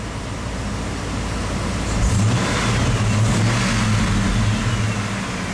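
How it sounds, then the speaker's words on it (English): A 1995 Ford F150 truck engine idling, then revving up sharply about two seconds in and holding a higher roar before settling, close and fairly loud with no talk. "Truck revs up great."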